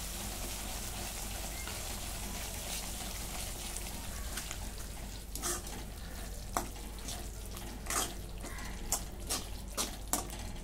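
Water goes into a hot pan of shahi paneer gravy with khoa and spices, giving a steady broad sizzle and hiss broken by scattered sharp crackles and splashes toward the end.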